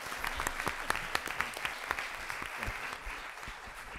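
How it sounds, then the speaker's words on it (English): Audience applause at a film festival event, a fairly faint, steady patter of many hands clapping that fills the whole stretch without a voice over it. "Let's give them a round of applause."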